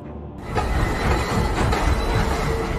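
A train running on rails, a steady rumbling roll with clattering wheel noise that starts abruptly and continues loud and close throughout, with no voices.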